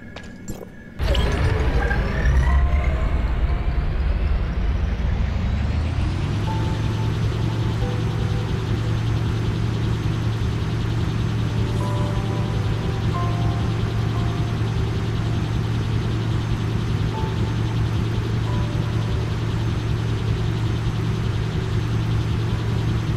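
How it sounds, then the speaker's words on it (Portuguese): A desert motorbike in the Tower of Fantasy video game starts with a sharp crash-like burst, then settles into a loud, steady engine drone that holds for more than twenty seconds with no talking. "Vamos pegar aqui a motinha do deserto."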